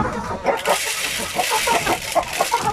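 Native chickens clucking inside their housing, a steady busy run of short clucks and calls at close range over a bright, noisy background.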